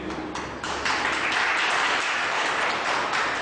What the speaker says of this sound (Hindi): अब एक ताली उधर से आप